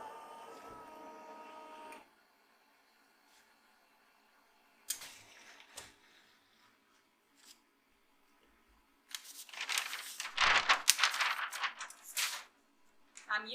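An HTVRont auto heat press starts up after its start button is pressed: a short electronic beep, then scattered clicks and a burst of mechanical whirring and clattering as the press moves, all fairly faint with quiet gaps between.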